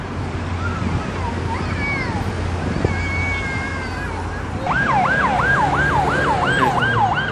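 An ambulance siren in Taksim, Istanbul, during a hospital fire wails in repeated rising-falling sweeps, loud and close, after a stretch of busy street rumble and distant tones.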